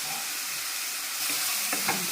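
Moong dal, onion and green chillies sizzle steadily in a pan for an upma made with amaranth leaves and wheat rava, a continuous hiss with a few stirring scrapes near the end.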